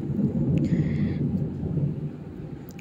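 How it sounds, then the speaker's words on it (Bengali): Thunder from a storm during rain, a low continuous rumble rolling for a few seconds at moderate distance, with no talking. "প্রচুর মেঘ ডাকছে"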